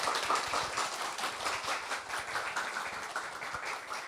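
A lecture audience at a Jeonju MBC talk gives a warm round of clapping to welcome Kim Byung-il, chairman of the International Business Center; the applause is soft and somewhat distant, steady and unbroken, with no talking.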